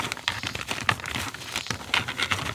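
Rawhide dog chew pieces go into a Ziploc plastic bag with close, crinkly rustling and small taps, a brief run of busy handling noise and no voices.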